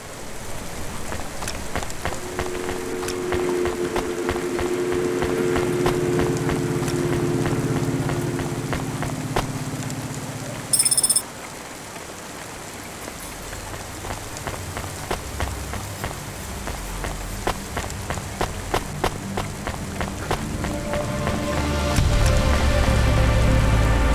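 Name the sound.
rain in a video game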